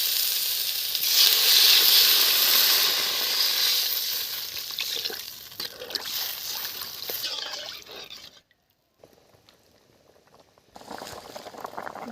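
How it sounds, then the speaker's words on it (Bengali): Water hits spices fried in oil in a cooking pot and sets off a loud, hissing sizzle. The sizzle fades, drops out briefly, then returns as a softer bubbling. "এখন জল ঢেলে দিচ্ছি"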